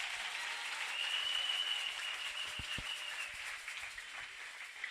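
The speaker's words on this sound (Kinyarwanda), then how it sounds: "Ngokomera amashyi umwami Yesu" Steady applause from a church congregation honouring Jesus, a continuous even wash of clapping at moderate level with a couple of brief low thumps near the end.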